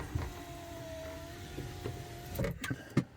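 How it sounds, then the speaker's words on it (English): Electric windows on a car running, a faint steady motor whine holding for a couple of seconds before a few soft clunks and a thump as the glass stops, quiet and close inside the cabin. "How are these electric windows?"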